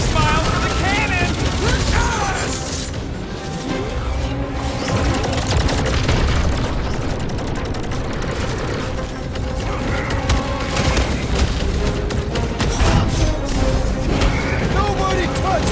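Cannon blasts and heavy booming gunfire in the video game Guardians of the Galaxy form a dense, loud barrage of repeated explosive hits and crashes under a layer of game music. Characters talk over the top.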